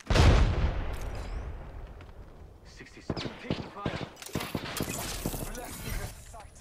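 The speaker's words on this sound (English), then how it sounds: "Grenade." A grenade blast in the video game Apex Legends opens with a loud, low boom that decays over about two seconds. Scattered gunfire-like cracks and clattering effects follow, and voices are heard faintly.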